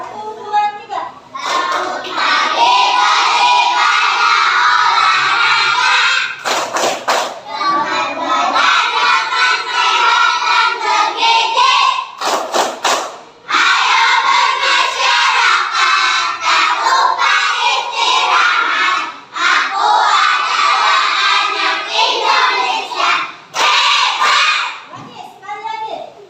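Schoolchildren in a classroom loudly chant and clap in rhythm during a clap game, bursts of unison voices and claps with short pauses between rounds.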